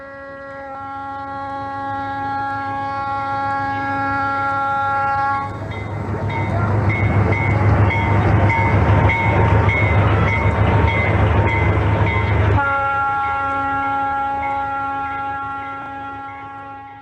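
A passenger train of the San Luis–Tampico railway leaves Apipilulco station bound for Iguala, Guerrero, its horn sounding in long sustained blasts around a loud, rumbling middle stretch of rolling wheels and engine noise.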